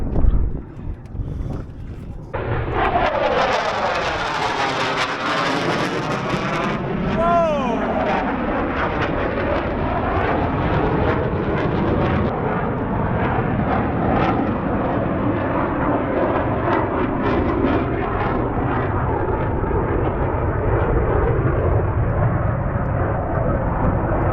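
A delta-wing jet roars overhead, rising and sweeping past in a loud passing whoosh that fades into a long rumble, heard from a sailboat with heavy wind buffeting the microphone.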